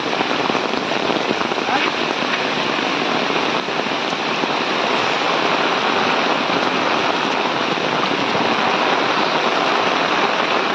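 Steady, dense rush of floodwater pouring along a village road during heavy monsoon rain, filling the whole stretch, loud and continuous with no pauses.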